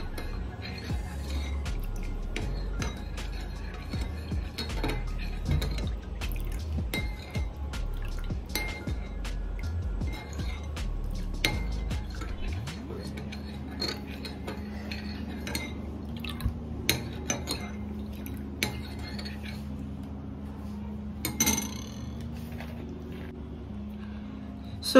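A spoon stirs a home remedy mixture with honey in a bowl, making wet, sticky squishing and dripping clicks with irregular scrapes and taps up close, continuing steadily for a long stretch.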